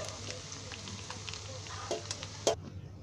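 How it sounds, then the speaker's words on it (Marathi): Eggs sizzle in hot oil in a pan for a lemon egg curry, a soft steady crackle with occasional scraping spoon clinks and a brief louder clatter near the end. "हे असे आहे ना ते मस्त फ्राय करून घ्यायचे तेलामध्ये"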